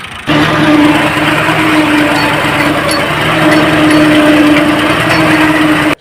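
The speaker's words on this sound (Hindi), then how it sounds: "ये मैं ट्रैक्टर स्टार्ट करने लगा हूँ" A farm tractor engine in a Pakistani village runs steadily and loudly after starting, a constant rough drone with a low hum and a few revs, no talk over it.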